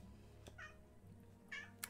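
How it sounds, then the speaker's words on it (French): A pet house cat meows twice, short and fairly close, the second cry sharper, over a quiet room background. "Ça, ce que vous entendez là, c'est mon chat."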